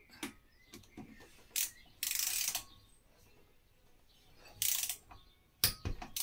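Wrench ratcheting on the cylinder head bolts of a Briggs & Stratton Vanguard 16hp V-twin engine, in several short bursts of clicking separated by quiet pauses, close by and moderately loud.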